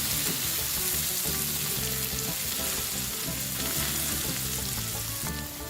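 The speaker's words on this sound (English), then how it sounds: "Let's saute these onions for a bit before we add the other ingredients." Onions, garlic, fennel and fenugreek seeds sauteing in hot oil for an Indian-style squid sambal, a steady loud sizzle and crackle running throughout with no pauses.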